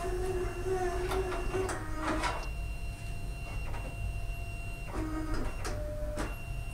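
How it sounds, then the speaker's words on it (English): A Fargo DTC4000 card printer feeds a cleaning card, with whirring motor runs, mechanical clicks and brief tonal hums over a steady background hum, close and moderately quiet. "go ahead and press clean printer. It's going to feed in the card."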